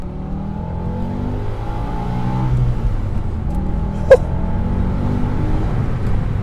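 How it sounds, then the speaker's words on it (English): A BMW M5 E60 with a V10 engine and manual gearbox revving steadily from inside the car, a smooth sustained engine drone rising in pitch, with a brief sharp click partway through. "let's get some revs going"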